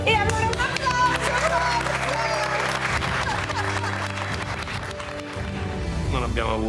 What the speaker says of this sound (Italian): E allora un applauso!